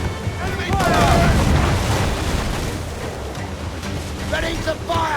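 Enemy cannon fire and explosions roll across the water in Assassin's Creed IV: Black Flag, heavy booming rumbles under wind and sea noise, with shouted voices around them.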